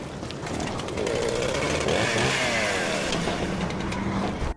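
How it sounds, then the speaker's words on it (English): A chainsaw revs in Resident Evil Revelations 2, a loud, sustained buzzing engine drone that rises and wavers in pitch before cutting off abruptly at the end. "Oh great, a chainsaw."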